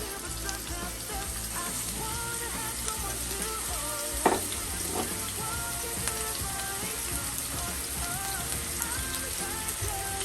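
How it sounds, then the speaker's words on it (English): Shredded steak sizzling in a skillet, a steady crackling fry with a sharp spatter or clank partway through, close and alone. "to my other skillet, I'm going to start with the shredded steak"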